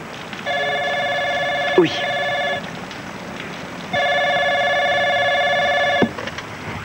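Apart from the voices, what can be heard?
telephone ringing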